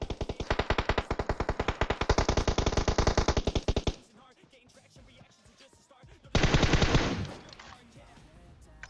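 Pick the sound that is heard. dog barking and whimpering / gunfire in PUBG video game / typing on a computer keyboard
gunfire in PUBG video game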